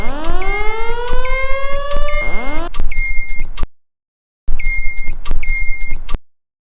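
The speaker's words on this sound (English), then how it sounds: "So that is what our fire alarm system is in our mega mansion." A mansion's fire alarm system sounds loudly with repeated electronic beeps and siren-like sweeping tones, then alarm pulses continue in bursts. After a brief silence it resumes before cutting off.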